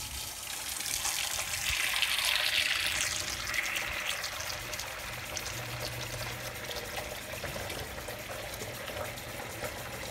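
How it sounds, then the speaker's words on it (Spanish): Lukewarm tap water runs steadily into a container in a kitchen sink, a continuous close hiss and splash ahead of washing eggs, louder in the first few seconds and then settling. "Mientras que estoy llenando el agua acá, agua templada, normal, no es agua caliente"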